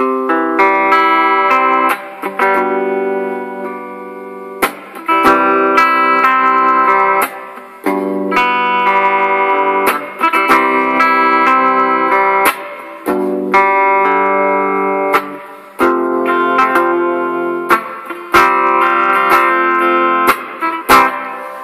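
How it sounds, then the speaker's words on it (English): Guitar played through a Digitech Hardwire RV-7 reverb pedal on its plate setting, with a studio-style reverb. Loud strummed chords come in repeated phrases with short gaps between them, and each phrase rings out with a sustained wash. "Then we'll move on to plate. Okay, which is kind of a studio type reverb really."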